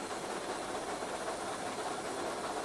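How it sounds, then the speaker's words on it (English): A loud, continuous broadband hiss from the injector of the steam locomotive Taw Valley, steady and close, with a faint mechanical rumble underneath. "Injector's just been put on."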